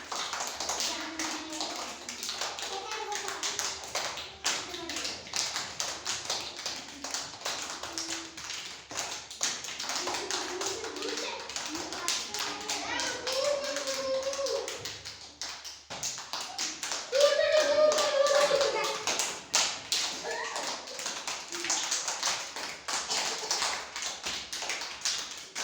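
Rhythmic hand clapping from a group playing a handkerchief-stealing game outdoors, steady claps running throughout under shouting voices and chatter.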